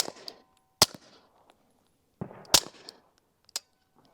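A SilencerCo Maxim 9 suppressed pistol fires subsonic ammo in two sharp, dry cracks about two seconds apart, each followed by the clack of the slide and short metallic rattles, close and moderately loud.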